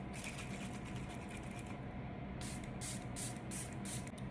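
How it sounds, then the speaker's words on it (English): A series of quick hissing sprays from a d'Alba facial mist bottle, about five short bursts in a row, close up over a steady background hiss. "I will be also using this Dalba spray to provide extra glow to my skin"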